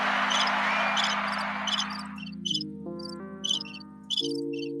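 A cricket chirping sound effect from a soundboard plays as repeated bright chirps over a sustained tonal bed, with a brief burst of applause at the start fading out.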